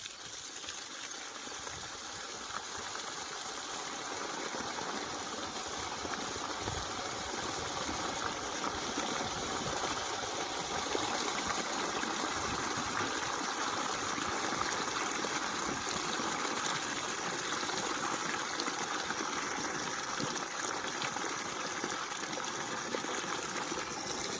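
A water pump motor on a farm filling a drum, producing a steady broadband gush of pouring water over a low motor hum, constant and fairly close for the whole stretch; nobody speaks.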